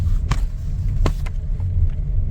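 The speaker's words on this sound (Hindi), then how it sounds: "हम लोग इस गाड़ी को थोड़ा सा हल्का सा स्पीड में एक टर्न करके देखते हैं" A Maruti Suzuki Ciaz car turns at low speed, its engine giving a steady low rumble from inside the cabin, with a couple of faint clicks and ticks over the drone and no talking.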